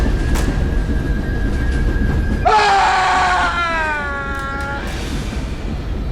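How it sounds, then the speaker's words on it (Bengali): Anguished screams rising from inside a train compartment, a horror-story effect: harsh, wavering high cries burst in suddenly over a low rumbling background, hold loudly for about a second, then trail into fainter wailing tones. "হঠাৎ শুনতে পেলাম বগির ভেতর থেকে আর্তনাদ ভেসে আসছে।"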